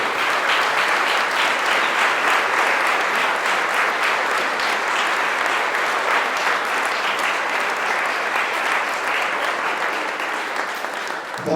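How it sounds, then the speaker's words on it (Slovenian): A crowd applauds loudly and steadily, dense clapping sustained throughout before tapering slightly at the end. "Čisto za začetek poprosim za bučen aplavz za vse"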